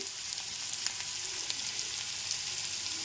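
Radish pieces fry in a pan, producing a constant close sizzle with scattered light crackles and pops and no voices.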